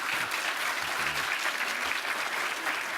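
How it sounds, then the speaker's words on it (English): An audience at a morning breakfast briefing gives the speakers a final round of applause, a loud, dense, continuous wash of clapping throughout. "One more final round of applause"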